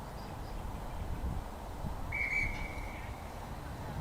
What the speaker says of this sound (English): Referee Charlie Gaither this afternoon blowing the whistle